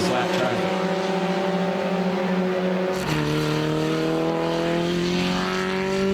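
Vintage Lola T90 race cars at Mid-Ohio roar by in a loud, sustained engine drone, the tone shifting and falling as a car passes close, with a second engine note carrying on underneath.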